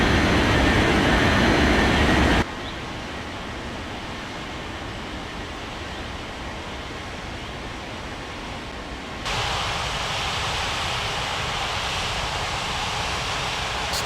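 Jet airliner taking off from runway 14 in a Roblox airport game: a steady, loud broadband engine roar that drops in level partway through, then swells again, with no talk over it.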